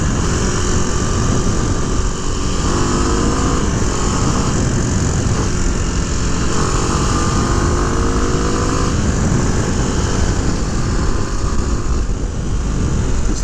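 A 2006 Kawasaki KLX250 dual-sport motorcycle rides at highway speed on a road near a residential area, giving a steady, loud engine drone blended with heavy wind rush and no voices.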